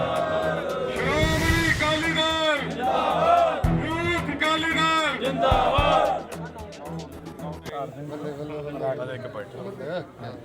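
A crowd of supporters at a Shiromani Akali Dal political gathering bellows the Sikh jaikara slogan in loud, drawn-out collective shouts, with voices rising together and then trailing off amid general hubbub.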